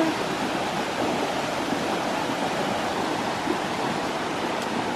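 Waterfall in Westmoreland, Jamaica, a constant dense roar of falling water, even and unbroken throughout.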